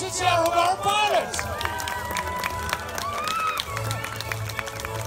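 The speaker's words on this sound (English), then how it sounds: "Give him a round of applause" Crowd at an outdoor May Day fair in Harrowbarrow and Metherell gives a round of applause, steady broadband clapping under an amplified announcer's voice and music-like tones throughout.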